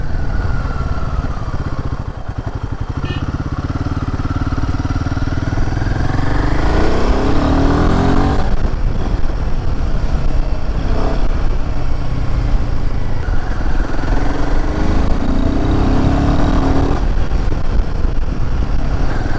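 Royal Enfield Himalayan 450 motorcycle being ridden, its engine droning loudly and steadily close up with rising revs and gear changes, wind rush over the engine and no voices.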